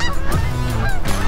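Canada geese honk loudly and close by during a goose hunt, with several overlapping calls in a rapid, continuous chorus.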